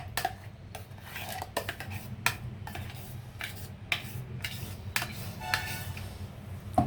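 A metal spoon scrapes and clinks against a bowl while ground chutney is moved into it, a series of sharp knocks and scrapes at irregular intervals over a low steady background hum, with no talking.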